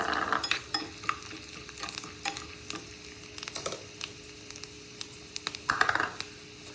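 Chana dal and urad dal crackle and sizzle in hot oil, with sporadic pops and faint stirring scrapes, close by and with no talking.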